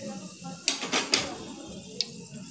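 Fried chicken and soybean pakoras being lifted onto a plate: a few sharp clinks and light taps of utensils on crockery, spread out over a couple of seconds in a quiet room.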